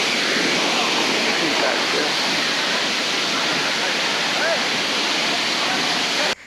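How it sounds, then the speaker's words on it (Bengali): Sahasradhara waterfall in full monsoon flow, a loud, continuous roar of heavy falling water that fills the whole stretch without pause. "আমরা চলে আসছি সহস্রধারা 2 ঝর্ণাতে। এটাও আজকে দানব আকারে দেখা দিয়েছে আমাদের সামনে।"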